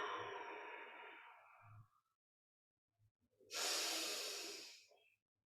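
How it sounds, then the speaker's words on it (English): Deep bellows breathing during a yoga twist: a long forceful exhale, a pause, then a second strong breath, close and alone with no talk. "Deep bellows breath."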